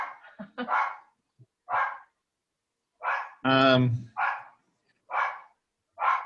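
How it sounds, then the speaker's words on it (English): A dog barks several times indoors, loud sharp barks in short bursts with pauses between them, while a person speaks during a municipal conservation commission meeting held remotely from home. "And I apologize, that's my dog."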